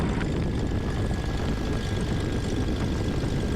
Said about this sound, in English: Taxi down to the run-up area while the plane runs up, warms up.